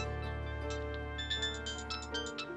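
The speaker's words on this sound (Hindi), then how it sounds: "फोन बज रहा है।" A phone ringtone plays during an indoor scene of a Hindi TV drama: a steady, bright electronic melody that rings continuously for a few seconds at moderate volume, with no talking.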